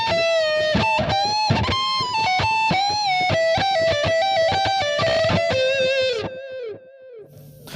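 A distorted electric guitar plays a riff, four measures of fast picked notes and bends that end on a sustained, fading note, loud and alone without talk.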